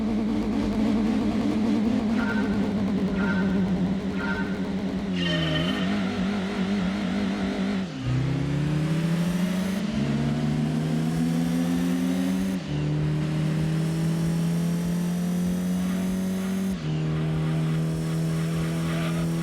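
Race car engine from Gran Turismo 2 on the PS1, revving loud and close through repeated gear changes, its pitch climbing and dropping back with each shift, steady and continuous with no talk.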